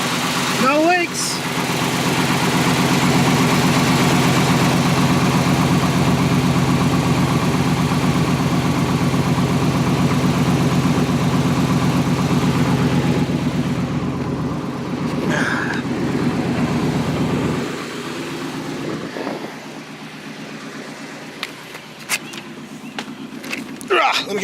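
Small-block Chevy Vortec V8 in a truck idling to warm up while being checked for low oil pressure, a loud steady rumble for most of the clip that then drops away, with a voice talking over it and wind noise.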